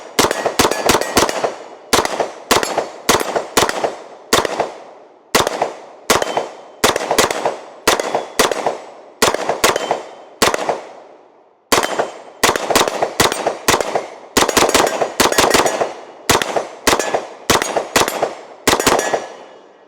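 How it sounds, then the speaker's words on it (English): Sig MPX K submachine gun fired at a range, sharp loud shots in quick bursts and doubles separated by short pauses, each crack ringing off into a brief echo, no talking. "let's go ahead and take our first few shots with her."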